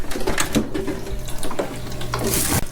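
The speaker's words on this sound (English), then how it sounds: "That noise you hear is the cat's water dish." A steady trickle and burble of running water from a cat's water dish fountain, with a faint mechanical hum underneath, continuous and fairly close, with no talking.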